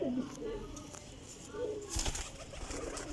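Champion pigeons, old desi birds, give low coos near the start, while voices and rustling noise run underneath through the rest.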